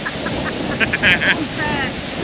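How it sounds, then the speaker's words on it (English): Steady, blustery wind noise rushing across the microphone while walking the South Downs Way, with a few brief brighter sounds poking through the constant roar. "As you can probably hear, it's really windy today."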